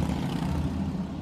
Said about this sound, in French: Quand tu as un bruit de moto comme ça, il faut chercher là.